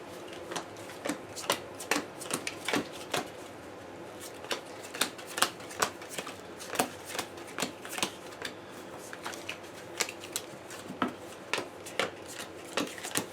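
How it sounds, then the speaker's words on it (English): Board game cards for a cooperative deck-building game are shuffled by hand, a steady run of quick riffling bursts and soft slaps repeating for several seconds, close and fairly quiet, with no talking. "So I'm gonna go and shuffle these."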